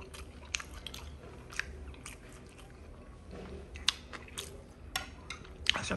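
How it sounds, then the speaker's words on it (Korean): Someone bites into and chews a takeout food dish with sauce served on the side, soft crunchy chewing and bite sounds repeating close up over a steady low background hum. "한 입 먹어보겠습니다."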